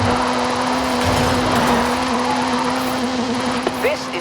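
Kenneth Block's Hooligan Gymkhana 10 Ford Focus, a 2-litre turbocharged all-wheel-drive car in a racing video game, holding a steady droning engine note at moderate revs, close and continuous throughout.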